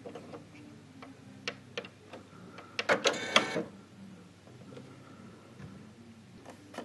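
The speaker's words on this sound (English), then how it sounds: "press your threader button on the machine so that the mechanism starts to come down" Mechanical ticking and clicking of a sewing machine's needle threader mechanism moving down, a brief cluster of sharp clicks in the middle amid softer scattered ticks, close and fairly quiet.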